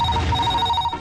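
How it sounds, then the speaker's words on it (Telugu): A telephone rings with a steady, continuous electronic trill in an indoor comedy film scene, close and alone, with no one talking over it. "అయ్యో ఫోన్ మోగేసింది ఏం చేయాలో ఏటో."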